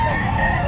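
Gamefowl at a pet market clucking amid dense crowd noise, a steady low murmur of voices and activity running throughout the short moment.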